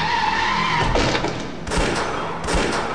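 In the Phantasmagoria 2 video game, a car screeches and strikes a man, then sharp gunshots crack in two loud bursts, near and punchy with no talk.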